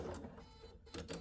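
A sewing machine fitted with a D foot stitches fused fabric for English paper pieced blocks, running in two short mechanical bursts with a quieter pause between them.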